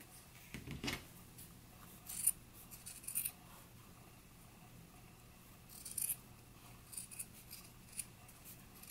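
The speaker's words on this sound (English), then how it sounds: "now I can trim the seam down" Fabric scissors snip a sewn seam allowance on a McCall's 7922 garment facing, producing close, crisp cuts in a few separate bursts between quiet pauses, with no speech.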